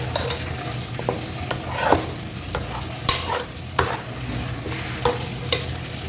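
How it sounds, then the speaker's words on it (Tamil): A spoon stirs half a kilo of mutton dum biryani in a pot after lemon is added, giving repeated scraping and clinking strokes over a soft, steady sizzle. "லெமன் போட்டதுக்கப்புறம் கிண்டிக்கலாம்"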